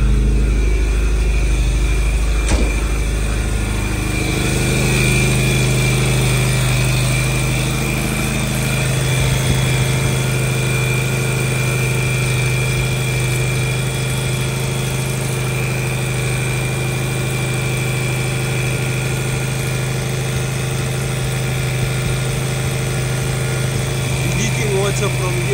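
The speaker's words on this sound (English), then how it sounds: "let me start the car." A Volkswagen Golf project car idles with a steady, low engine rumble and vibration, close and continuous, with a brief bump near the start and a faint ticking overtone.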